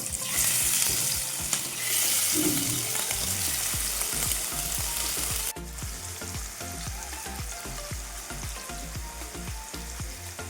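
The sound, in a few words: prawns frying in hot oil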